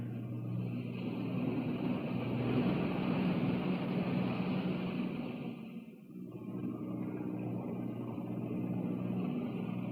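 Boat engines drone steadily and loudly throughout, a continuous low rumble with a brief dip partway before resuming.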